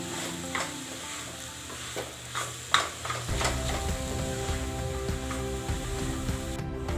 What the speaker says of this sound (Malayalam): ഈ പൊടിച്ചു വച്ചിരിക്കുന്ന കപ്പ ഇട്ട് കൊടുക്കാം. നല്ലോണം മിക്സ് ചെയ്യാം.